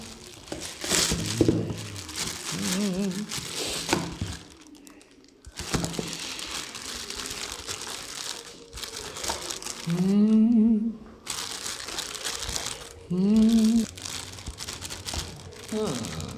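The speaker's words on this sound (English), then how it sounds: "Let's get it out of the plastic bag." Crisp plastic bag crinkling and rustling close by as a Ryobi belt file sander is unpacked, in uneven bursts while someone talks, with brief quieter gaps between handlings.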